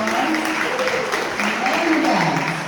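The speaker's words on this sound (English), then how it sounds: "Give yourself a round of applause." Applause from a public meeting audience in Coral Gables rolls on steadily while voices cheer and talk over it throughout.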